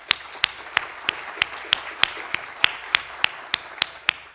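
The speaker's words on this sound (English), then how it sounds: "a special thanks, really in a round of applause, to Wissam Raji" A small conference audience in Lebanon gives a round of applause, heard as slow, evenly spaced individual claps at a steady rhythm, fairly faint and sparse.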